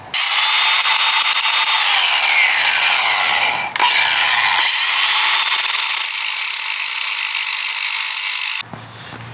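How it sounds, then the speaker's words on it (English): An angle grinder sharpens hardened steel stump grinder tips, producing a loud, continuous high-pitched shriek with a brief dip near the middle and a sudden cutoff near the end, close up and with no speech. "let's grab the old angle grinder and get sharpening"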